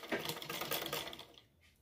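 A sewing machine stitches the body seam of a bra-cut blouse after the sleeves are joined, giving a fast, steady mechanical run close up that stops abruptly near the end.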